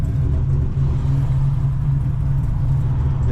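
Cammed Camaro ZL1 V8 engine held at a steady, loud idle-to-rev: a deep, continuous low rumble with a lumpy pulsing throb, close up and without talk.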